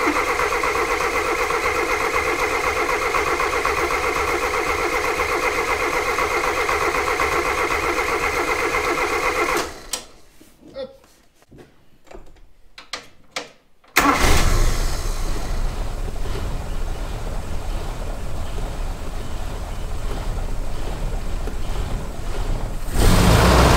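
A vehicle engine runs with a steady, loud drone, cuts out into a few seconds of near-silence broken by clunks, then restarts and runs strongly again, with no talking.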